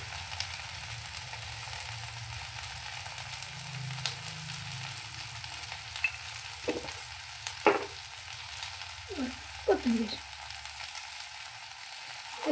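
Okra (bhindi) fries in a pan with a steady, faint hiss, broken near the end by a few brief scraping stirs of a spoon against the pan.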